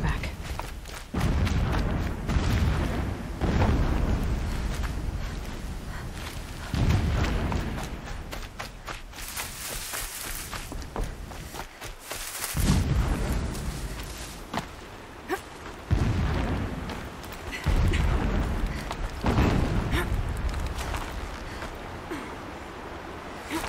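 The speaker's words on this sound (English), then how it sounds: "explosions in the distance. Pay that no mind." Distant explosions in the video game Horizon Zero Dawn come as repeated low booming thuds at irregular intervals over a steady rumbling game background.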